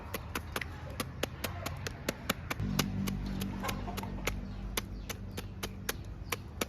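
A knife chops jungle chicken on a board in a rhythmic series of sharp, evenly spaced thwacks, steady and close, with a low hum entering partway through.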